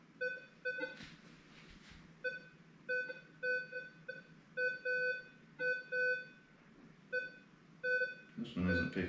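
A metal detector sounds a steady series of short, evenly pitched electronic beeps as it passes over a shotgun shell, the tones pulsing repeatedly through the clip under faint background noise, ending in a brief burst of louder handling sound.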